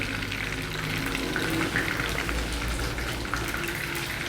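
Chicken pieces for chicken Manchurian fry in oil at normal temperature, giving a continuous, even crackling sizzle with no pauses and no speech.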